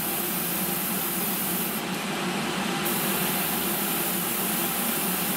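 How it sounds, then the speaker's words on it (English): Spray gun airbrushing paint onto a figure, a loud continuous hiss of air and atomised paint holding steady throughout, close and alone. "So gently squeezing the trigger, paint's beginning to flow, moving the brush all the time."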